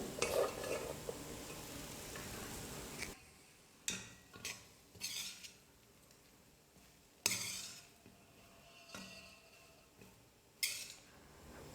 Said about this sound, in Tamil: புதினா தொக்கு கொஞ்சம் அதிகமாக இருக்கிறதுனால கொஞ்சம் சாதம் சேர்த்து மிக்ஸ் பண்ணிக்கிறேன்